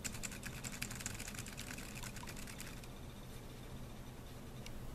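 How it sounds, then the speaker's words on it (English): Fingers type on a 1byone pocket-size Bluetooth folding keyboard, with quick, close, crisp keystrokes clattering densely for about three seconds before thinning to a few scattered taps; no one speaks. "And then we'll see how long it takes before you can start typing again."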